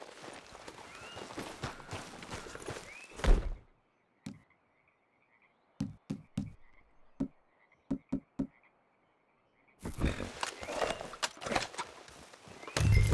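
Horse hooves clop in Red Dead Redemption 2, with a mix of rapid clip-clop and scattered sharp single hoof strikes. Near silence falls between the bursts, and the busier hoofbeats return at the end.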